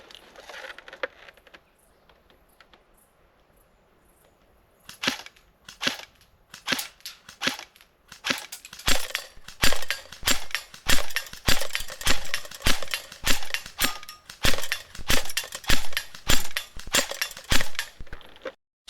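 An airsoft gun fires single shots at a target 14 metres away: after a quiet start, sharp close-range cracks repeat in a quick, fairly steady rhythm, some with faint impact ticks, and no one speaks.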